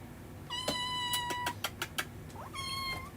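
Pet cat meowing and crying while being held, giving a few loud drawn-out cries followed by short sharp yelps and another long wail, close by, with no talking.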